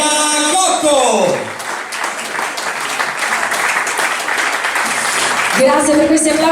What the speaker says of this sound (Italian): Grazie per questi applausi meravigliosi.